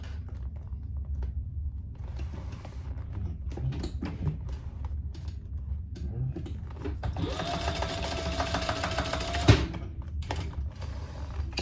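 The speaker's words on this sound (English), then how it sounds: "I like to sew it from the right side so I can see that it's nice and centered" Domestic sewing machine stitching a fabric foldover crossbody bag, sewn from the right side: a low steady mechanical hum with quiet clicks, then a louder fast whirring run of stitching near the end, stopping abruptly.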